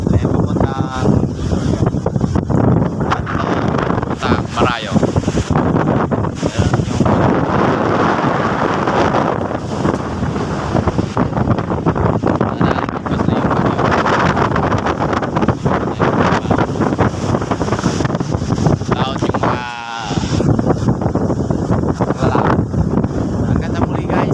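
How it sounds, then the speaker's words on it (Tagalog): Strong southwest monsoon (habagat) wind roars and buffets the microphone almost constantly, loud and gusty, with a voice speaking beneath it. "lakas ng hangin abagat na ito na yung tinatawag na abagat"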